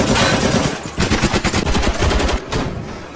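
Rapid automatic gunfire from mafia gunmen shooting wildly, loud and close, a dense burst of overlapping shots with a brief gap before the fire resumes and trails off.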